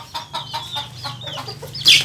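Chickens cluck in a rhythmic series of short, close clucks on a farm, ending with a sharper, louder squawk.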